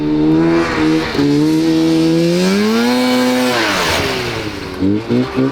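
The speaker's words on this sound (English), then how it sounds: "I think that was the hottest I've ever seen a go-kart go in that space." A muffled 670cc two-stroke go-kart engine revs hard nearby, its buzzing note climbing and dipping through several throttle sweeps, then ending with a few quick blips.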